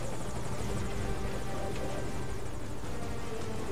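A helicopter in Metal Gear Solid V: Ground Zeroes drones with a loud, steady rotor roar and engine hum, constant throughout with no pauses.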